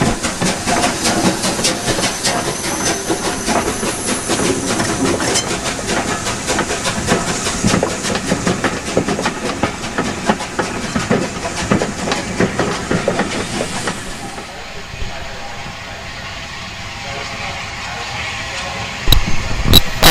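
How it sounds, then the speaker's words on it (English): Eddystone, a three-cylinder steam locomotive on passenger duty, passes with a rapid, loud exhaust beat and clattering wheels, the roar cutting off abruptly partway through and leaving a quieter rumble and hiss. "With the exhaust beat that typifies the three-cylinder engine"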